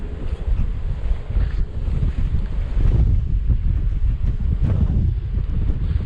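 Strong wind buffets the microphone on the River Humber shore, a loud, gusty low rumble with surging bursts and no speech.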